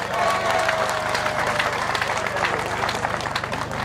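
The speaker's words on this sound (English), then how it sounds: "I would like to ask you to clap for him." A large crowd at a Ugandan government stadium event applauds for President Yoweri Museveni, steady dense clapping lasting several seconds, with a faint tone and murmured voices mixed in.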